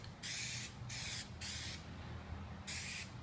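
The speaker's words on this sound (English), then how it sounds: "You don't want to spray it too heavy or too light." Four short bursts of aerosol stain-blocking primer spray, each about half a second, hissing close by with brief pauses between them, applied to a drywall ceiling.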